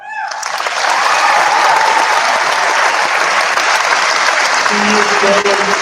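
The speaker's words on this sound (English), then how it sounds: "We get a round of applause for Logan Proctor" A crowd at a high school senior awards night applauds a student being recognized for joining the Army, loud sustained clapping that swells within the first second and holds steady, with a voice emerging near the end.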